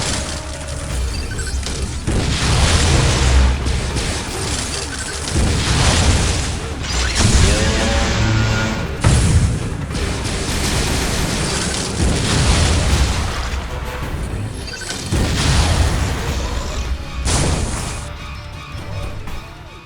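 Explosions from missile fire in the Metroid: Other M game, a dense, loud, continuous run of booms, crashes and bursts over rumbling action sounds, layered with no clear pauses.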